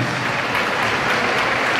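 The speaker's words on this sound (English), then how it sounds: "Let's give him uh, one more huge round of applause." An audience at a school spring sports assembly breaks into dense, continuous applause, loud and even throughout the short stretch.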